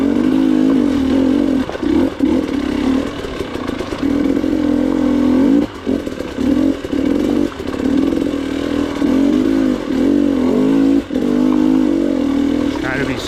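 An enduro motorcycle picking its way along a rocky hard-enduro trail, the engine droning loud and close with repeated throttle blips and brief cuts, rocks clattering under the tyres, and a voice speaking over it.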